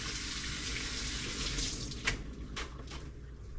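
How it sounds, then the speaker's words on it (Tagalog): Tap water runs steadily into a sink while garlic cloves are rinsed underneath, a close, continuous splashing stream with a few brief clinks and shifts as the cloves are handled. "Hugasan ng bawang."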